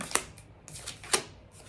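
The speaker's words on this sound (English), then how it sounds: "let's flip over your cards and see what's going on for the pre-shuffle" Tarot cards flipped over on a reading table, two sharp papery snaps about a second apart with softer shuffling rustles between, close and fairly quiet.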